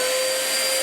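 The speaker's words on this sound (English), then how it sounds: "So I'll turn the dust extraction on," Workshop dust extractor running at full power, a steady, loud, unbroken broadband roar with no variation.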